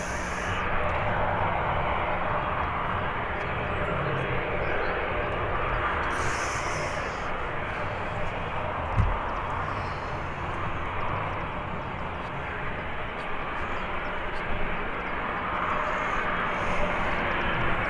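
An airliner at Birmingham Airport produces a broad, steady jet roar that holds loud and unbroken throughout, with faint background hiss and no speech.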